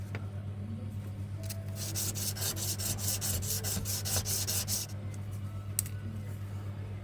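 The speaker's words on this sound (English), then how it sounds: "and then I start sanding, keeping it at the right angle." Sandpaper is rubbed back and forth against the edge of a metal wrap-around ring made from cutlery, a rapid series of close, raspy strokes in the middle, over a steady low hum.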